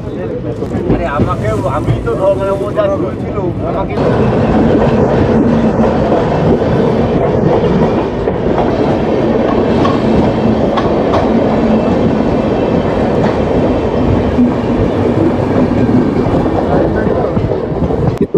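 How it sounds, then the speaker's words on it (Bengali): A crowded passenger train, the Black Diamond Express, pulls out of Bandel station and rumbles along the tracks with rhythmic clickety-clack and heavy wind noise, loud and continuous, after a brief quieter start. "আমাদের ট্রেন ব্যান্ডেল স্টেশন থেকে ছেড়ে দিল।"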